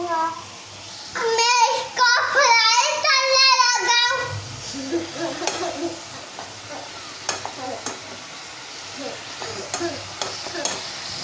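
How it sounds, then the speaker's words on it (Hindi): Tinda (round gourd) frying and being stirred in a pan, a soft sizzle with scraping clicks after someone speaks loudly at the start, then continuing quietly alone. "अब मैं इसको फ्राई करूँगा। मैं इसको फ्राई करने लगा हूँ।"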